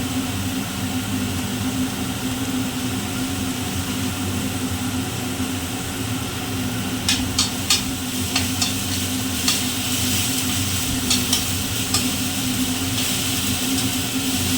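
Ghugni with chili powder and turmeric sizzles in a pan in a home kitchen, a steady loud frying hiss with a low hum beneath and a few light stirring clicks near the end.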